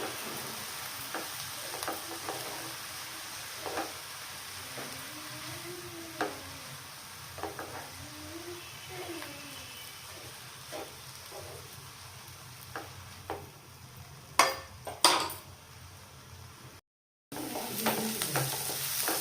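Spinach stirred into frying onions in a pan gives a soft, steady sizzle with scraping stirs and scattered clinks of a spoon against the pan, getting busier toward the end.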